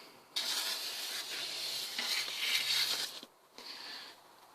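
A fence-panel sprayer hisses steadily as it mists the ground around plant pots in an allotment plot, a close continuous spray lasting about three seconds, then a short pause and a second brief burst.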